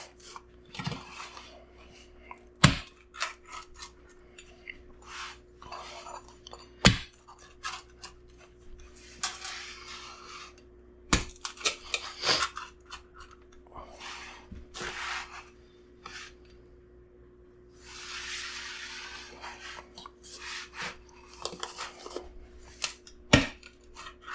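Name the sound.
crunch of eating crispy sourdough pizza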